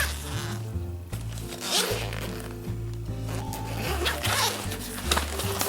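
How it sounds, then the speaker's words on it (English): A bag's zipper is pulled open in a series of close, raspy zipping strokes with brief pauses and rustling of the fabric bag between pulls. "Let me find the zipper."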